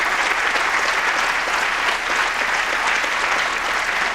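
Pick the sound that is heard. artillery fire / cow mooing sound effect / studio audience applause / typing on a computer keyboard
studio audience applause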